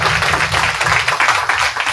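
Congregation clapping at a revival meeting in Seethanagaram, a steady dense patter of many hands filling the hall, loud and continuous throughout.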